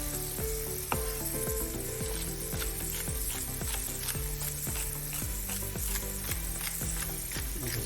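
Beef browning for a vegetable stew, a loud continuous sizzle and crackle of meat searing in a hot pot, steady throughout with faint scraping and stirring, no voices.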